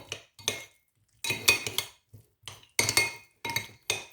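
Spoon mixing curry paste in a bowl, a series of close clinks and scrapes in irregular bursts with short silent gaps between strokes.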